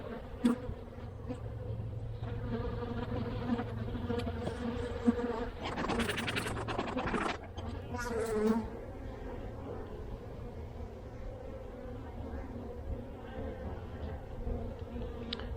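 Honeybees buzz around an opened hive during a February inspection, a steady droning hum close by with a few louder bursts of buzzing and scraping partway through.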